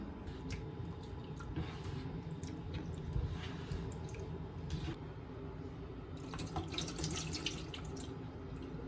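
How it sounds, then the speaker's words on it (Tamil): Two tablespoons of garden cress seeds are rinsed in water under a kitchen tap, running water and wet squishing and swirling with a few drips, close and moderately quiet, with no talking. "இதை தண்ணியில் கழுகி எடுத்து வச்சுக்கலாம்."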